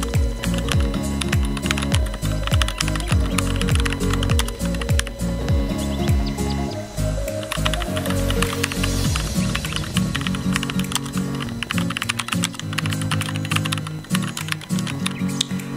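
A password being typed on a computer keyboard: rapid, continuous key clicks close up, a dense stream of keystrokes throughout with brief pauses, over a steady background hum.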